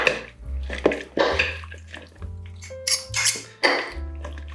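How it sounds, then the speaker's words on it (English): A bean salad being tossed in a bowl, with repeated close clinks and scrapes of utensils against the dish in bursts, alongside a steady low hum. "give that a good mix through"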